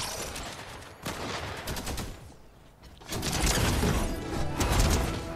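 Automatic turret gunfire in Fortnite during a Halloween boss challenge, bursts of rapid shots that dip in the middle and then return louder and denser, loud and close, with no talking.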